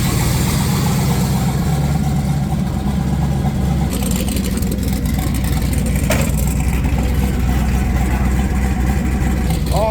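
Rebuilt race car engine idling just after start-up, a loud, rough, lumpy low rumble that runs steadily and close throughout with slight revs, while faint voices sit underneath.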